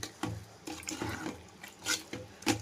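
Bean cooking water poured into a pan of broad bean and tomato curry, short splashing and gurgling bursts in uneven pulses, close and moderately quiet, without talk.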